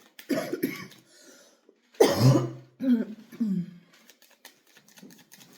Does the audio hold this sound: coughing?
yes